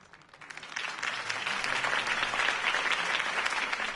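Crowd applause at a political campaign rally in the Batman Telltale Series game, a dense clapping that swells from quiet to a full, sustained ovation.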